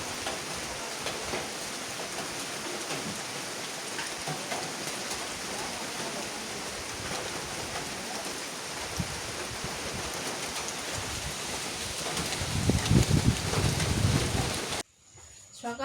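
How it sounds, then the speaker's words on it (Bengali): Light morning drizzle falls outside near a river as a soft, continuous hiss of rain, with a brief louder rumble of nearby activity toward the end before it cuts off. "বৃষ্টি শুরু হয়ে গেল"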